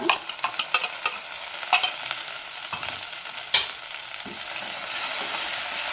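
Coarsely ground ginger, green chili and curry leaves fry in hot oil for a Kadalekalu usli, giving a close crackling sizzle with quick spatula taps and scrapes that thin into a steady hiss.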